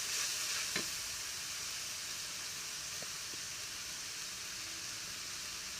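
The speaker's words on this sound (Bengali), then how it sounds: "আটা বাটা আর রসুন বাটা দিচ্ছি, দিয়ে সুন্দর করে ভেজে নিব" Ginger and garlic paste fry in a hot pan with a steady, soft, close sizzle. A brief stirring knock sounds near the start.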